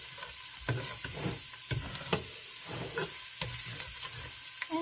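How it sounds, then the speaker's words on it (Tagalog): Garlic fries in hot oil in a pan, a steady close sizzle and hiss broken by frequent sharp crackles and pops, with no one talking. "kailangan lang nating magpainit ng mantika, kawali. And then ilalagay na natin yung garlic."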